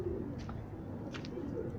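Soft, low cooing from Asil pigeons comes a few times over a constant low background hum, faint and close by.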